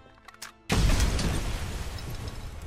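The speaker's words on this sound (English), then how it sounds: "Oh, grenade." A grenade goes off in RoboCop: Rogue City, a sudden loud boom after a quiet lead-in, followed by a rumbling, crackling tail that slowly fades over the next two seconds.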